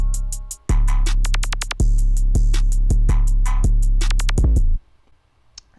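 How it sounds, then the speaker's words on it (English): A simple 808 bass pattern for a dark rap beat booms loud and sustained, with a few pitch ups and downs near the end, topped by a rapid ticking hi-hat line. It cuts off into near silence. "And then I made this 808 pattern that it's pretty simple."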